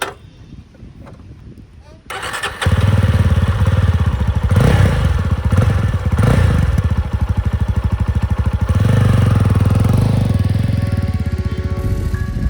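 A 2025 Jawa 42 FJ 350 motorcycle is ridden, its engine rising from quiet to a loud, steady, pulsing thrum that holds close and strong throughout, with no talking.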